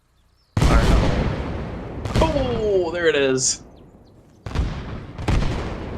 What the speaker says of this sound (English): and you can hear the difference in the explosions too